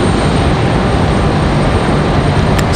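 Loud, steady jet engine roar of a Southwest airliner departing at Raleigh-Durham International Airport, a dense continuous rumble heard close and unbroken throughout.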